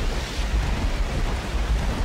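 Thunderstorm in the video game Left 4 Dead 2: a steady, loud low rumble of thunder with a rain-like hiss, continuous for the whole stretch and with no talking.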